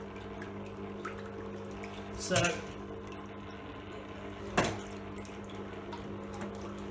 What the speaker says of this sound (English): now the water's starting to come through now